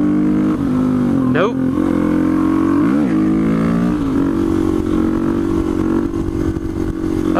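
A supermoto motorcycle rides at speed in third gear, its loud engine droning steadily with a brief pitch dip and rise around an upshift into fourth, wind noise throughout, and a voice speaks briefly near the start.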